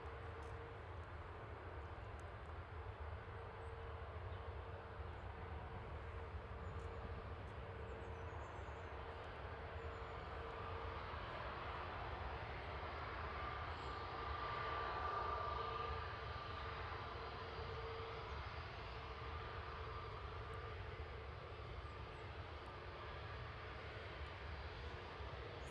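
A jet airliner takes off from the runway at Manchester Airport, its engines giving a steady, broad roar that stays distant and even throughout and swells slightly near the middle.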